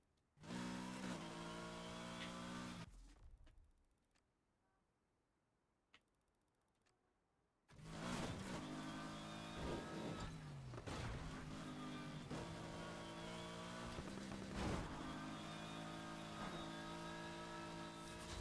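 A car engine in the racing video game Need for Speed Heat, revving and driving loudly, cutting to near silence for several seconds before the engine roar returns and holds steady.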